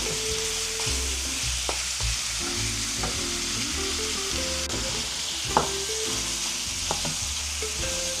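Chicken pieces sizzle and fry in a hot pan as they are sautéed, a steady close crackle with a few stirring knocks of a utensil, and no talk.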